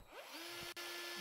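A drill runs in the heist video game One Armed Robber, a loud, steady whine that rises in pitch and then holds, with a brief dropout partway through.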